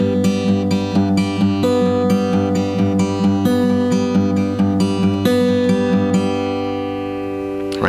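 Travis-style guitar finger picking pattern that keeps driving on the bass note, with a steady thumbed low pulse under bright plucked treble strings in an even, continuous rhythm that rings out at the end, close and alone.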